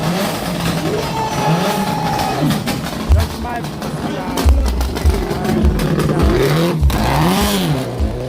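A Skoda Fabia rally car revs hard and accelerates away at the ceremonial start of the Pearl of Africa Uganda Rally in Mbarara. The loud engine rises and falls in pitch under a commentator's continuous talk and crowd noise.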